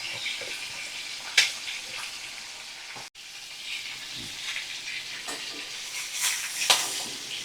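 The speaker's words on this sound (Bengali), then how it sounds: "আর মিডিয়াম ফ্লেমে রেখে আমি মাছ ভাজা করে নিচ্ছি।" Fish fries in oil over a medium flame for a vegetable fish curry, giving a steady broadband sizzle and hiss. Occasional sharper crackles and pops rise above it, and no voices are heard.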